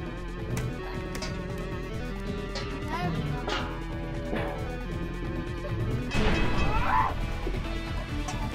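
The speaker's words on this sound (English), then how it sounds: "Let's just break all the glass" Glass punched and smashed in the brawler game Gang Beasts, a dense run of crashing, shattering impacts over busy game noise, loudest in a big burst late on, with players talking throughout.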